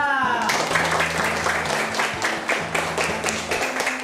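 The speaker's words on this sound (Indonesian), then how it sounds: "Tepuk tangan." A group of schoolchildren clapping at an elementary school, brisk applause filling the space continuously and fairly loud, with a faint tonal hum underneath.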